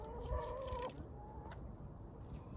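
A young rooster crows among hens in a farmyard, one clear cock-a-doodle-doo in the first second, then a quieter trailing call over steady background noise.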